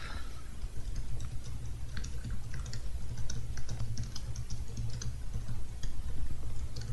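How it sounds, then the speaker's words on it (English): Rapid keyboard typing in the video game Hitman: Blood Money, a dense run of light plastic key clicks at a steady, busy rhythm, moderately close and continuing throughout. "Just typing in some stuff here because I'm professional."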